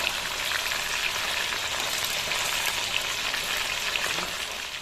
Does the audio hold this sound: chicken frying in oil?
yes